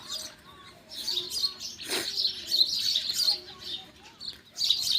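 Pet pigeons at a home roost with chicks nearby call and chirp close by, a busy run of bright calls with a few soft coos and a brief flutter.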